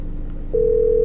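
A steady telephone dial tone comes in about halfway through and holds unbroken over faint background hum while a call to grandpa is placed in the video game The Stalked.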